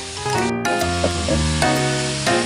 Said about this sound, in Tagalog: yung karne pala na ginigisa